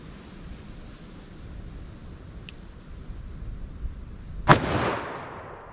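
One sharp, loud gunshot from a .44 Magnum revolver with a 4 1/4 inch barrel firing 240 grain Nosler ASP rounds cracks outdoors and trails off in a short echo, after a faint earlier click.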